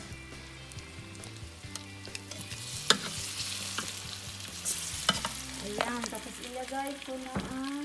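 Banana and sweet potato for kamote cue sizzle in hot oil while being stirred and mixed, with scraping strokes and crackling pops, fairly quiet and close, and a brief spoken voice over the cooking.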